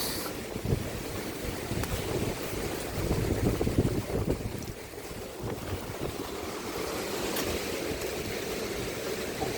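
Strong super typhoon wind roaring steadily at night along a coastal area, with heavy microphone buffeting and a broad, continuous rush that swells slightly midway; no voices.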